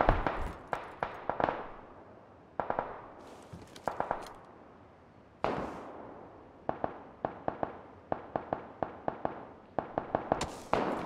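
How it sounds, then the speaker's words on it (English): Gunfire erupts around the player in a video game, with sharp shots cracking in quick clusters and single bangs separated by short gaps, some close and loud, others more distant with a lingering echo. "They're fucking shooting all around me!"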